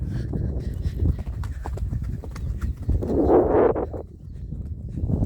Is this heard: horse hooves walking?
yes